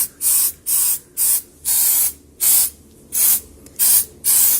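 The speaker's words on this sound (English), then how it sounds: "I'm going to spray a little bit more, but here's the fluid film black" Fluid Film black undercoating sprayed from an aerosol can under a truck: eight short, sharp hissing bursts in a steady rhythm, each about half a second with brief pauses between, close and clear.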